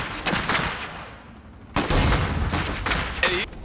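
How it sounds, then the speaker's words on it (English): Gunfire and cannon blasts in the strategy game Iron Harvest: several loud, crackling bursts of shots, each fading into a short gap before the next. "Cannons must first deploy in place before they can fire."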